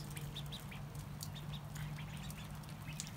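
Small call duck ducklings with mallard coloring peep and chirp repeatedly in short, high calls, several birds close by, over a steady low background hum.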